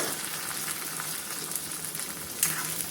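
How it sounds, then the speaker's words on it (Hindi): Chopped tomato fries alongside stuffed bitter gourd in a pan, giving a continuous close sizzle with faint scraping and one sharper clink near the end. "इनको भी अच्छे से भून लेंगे।"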